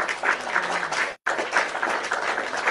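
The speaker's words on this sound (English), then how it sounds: "Clap it up for me." An audience claps steadily, a full wash of many hands pulsing slightly, broken by a brief dropout near the middle before resuming at similar moderate loudness.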